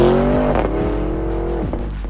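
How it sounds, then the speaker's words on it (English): A Porsche Cayenne GTS Coupé's deep, throaty V8 exhaust roars loudly at full throttle, rising and falling in pitch as the engine revs hard, with no talking. "And when you really get on it, it sounds like this."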